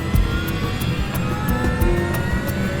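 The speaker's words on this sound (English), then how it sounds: "he records the sound of the engines from inside the cockpit." Steady engine roar with a rhythmic pulsing beat, heard close up from inside an aircraft, droning continuously without any voices.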